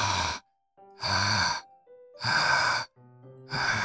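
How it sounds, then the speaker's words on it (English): Sharp breathy inhales, as if sucked through teeth, repeat in four close bursts with brief pauses, set against soft game-style music tones in the Doki Doki Literature Club video game. "A sharp inhale like someone is sucking the air through their teeth."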